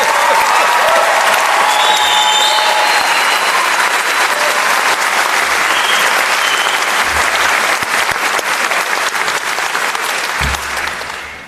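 Loud, dense applause fills a ceremony hall, an audience clapping continuously and evenly before it begins to taper at the very end.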